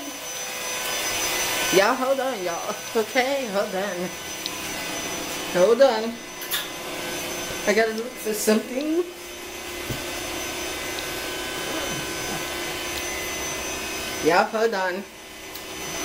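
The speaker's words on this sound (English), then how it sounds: "He's airing up the bed." Electric air pump inflating an air bed indoors, a steady whirring hiss that runs throughout under a woman's close, repeated talking.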